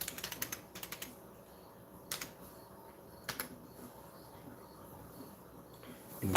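Quick clusters of keystrokes clatter on a computer keyboard, close and crisp, while a person types a search phrase, with pauses between bursts and a faint steady background hiss.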